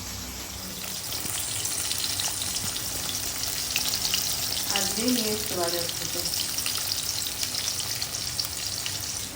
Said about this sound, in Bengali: এই যে 3 পিস মাছ ভাজা হচ্ছে, একসাথেই দিয়ে দিই